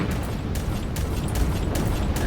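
Rapid shots keep striking targets in the game Warmaster Bunker Buster, a dense run of popping, explosive impacts that repeat steadily and sound loud and close.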